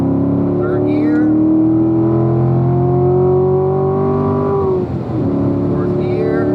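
A Corvette engine on a racetrack holds a steady, rising drone in third gear, then briefly drops off before resuming, close and continuous, with a voice speaking over it.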